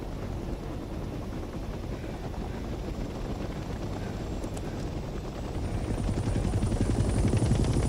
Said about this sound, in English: The helicopter will now take off automatically and remain in a hover state.